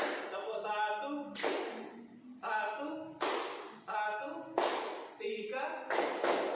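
Students in an Indonesian group counselling class play a counted clapping game, with short bursts of group claps alternating with a spoken voice calling the counts.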